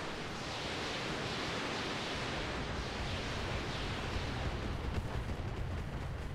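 A missile barrage in the mech combat game Roguetech, heard as a steady, dense roar of rushing noise that holds for several seconds at a fairly low level, with no talk over it.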